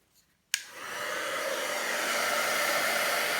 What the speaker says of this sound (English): so I'm going to heat it with my heat tool